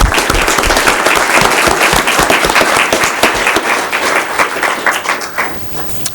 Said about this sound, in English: Can we give another round of applause, Justin?